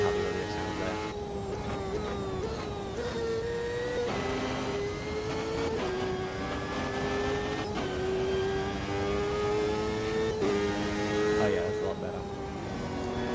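A race car engine in the racing video game Automobilista 2, practising at Goiânia, holds a steady droning whine with rising and falling pitch as the revs shift through gears, running continuously under intermittent talk.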